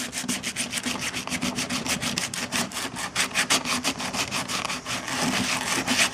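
Sandpaper scrubs rapidly back and forth across the metal lid of a fruit can, roughing the surface for epoxy; a steady rasping rhythm of short, close strokes with no talking.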